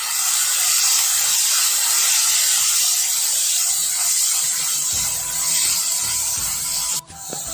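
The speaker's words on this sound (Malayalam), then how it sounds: "ഈ കൂട്ട് നമുക്ക് കുറച്ച് സമയം വഴറ്റാം." Bitter gourd and other vegetables sautéing together in a pan give a loud, steady hiss that runs almost unbroken, dipping briefly near the end.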